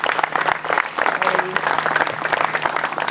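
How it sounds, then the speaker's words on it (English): A crowd gives a big round of applause for volunteers at a Jaybirds Day 2025 event: loud, dense clapping sustained throughout, with a voice speaking over it. "Big round of applause for our volunteers today."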